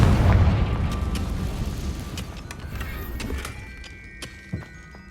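The Confringo blasting curse in Hogwarts Legacy detonates in a loud, deep explosive boom, then rumbles and fades over several seconds with scattered crackling debris and a small late thump.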